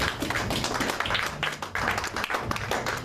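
Church congregation clapping and applauding together in worship, a dense steady patter of many hands filling the room with some faint voices underneath.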